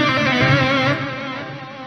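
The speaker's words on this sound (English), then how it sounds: "that echo or that delay" An electric guitar runs through a Neural Soldano plugin with stereo digital delay, a sustained, slightly distorted chord whose echoes repeat and fade over a couple of seconds.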